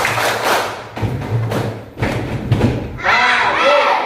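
Children in a primary school classroom clap their hands in time with a sung action song, giving a few evenly spaced thumping claps among the singing voices before a voice rises alone at the end.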